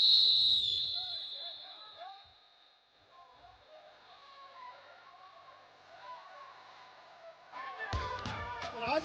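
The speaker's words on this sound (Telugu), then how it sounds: "Ready for long whistle." A long shrill referee whistle starts a tug of war game among state legislators, sounding loud for about a second at the start. Voices talk afterwards, and crowd noise swells at the end.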